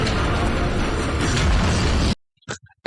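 Gunfire in a Farscape episode: a loud, dense stretch of blasts and crackling bursts fills the first two seconds, then cuts off abruptly, leaving a short spoken voice and faint pops.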